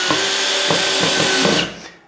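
A cordless screwdriver drives screws through pre-drilled holes into a drywall bathroom niche, a loud, close, continuous whirr with a few pulses as each screw bites in, then winding down.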